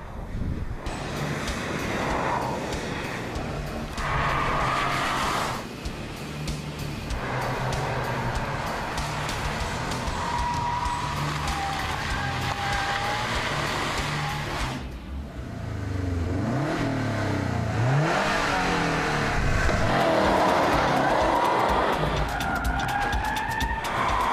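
Subaru Impreza WRX STI driven hard on track laps, its engine revving up and down through the gears with tire squeal and skidding, loud and close throughout with no talk.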